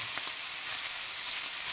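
Filling for karnıyarık stuffed aubergine sizzles as it is sautéed in a pan, a steady, close frying hiss with no talk.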